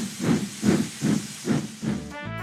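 A steam locomotive chuffs steadily down the track, five rhythmic hissing puffs at an even pace, fairly close, ending with a brief whistle-like tone.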